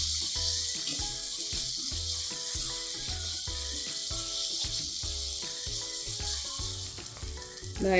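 Masala chicken frying in oil in a pan while being stirred, a steady bright sizzle running throughout, close and fairly loud, with rhythmic background music underneath.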